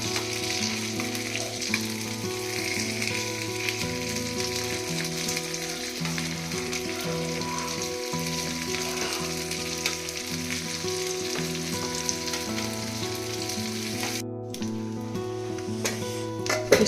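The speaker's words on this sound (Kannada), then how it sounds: "ಫಿಶ್ ಕಂಪ್ಲೀಟ್ಲಿ ಫ್ರೈ ಆಗಿದೆ." Fish frying in hot oil, a steady dense sizzle that runs unbroken and fairly loud, with no talking.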